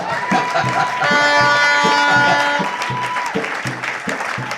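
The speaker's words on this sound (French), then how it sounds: "Acclamez très fort" Audience applause at a French-language church sermon by a pastor, steady clapping filling the whole stretch with a sustained musical tone and organ-like chords underneath, fairly loud and close.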